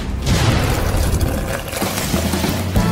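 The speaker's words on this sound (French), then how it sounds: "L'explosion a été forte." Popcorn explodes violently in a saucepan in a kitchen, a loud, dense rush of crackling bursts and booms that continues without pause.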